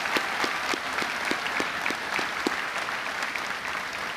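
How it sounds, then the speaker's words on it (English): A high school graduation ceremony crowd applauds honored students, a sustained, even roar of clapping with a few sharper individual claps standing out near the front, loud and continuous throughout. "Nice round of applause for them, please."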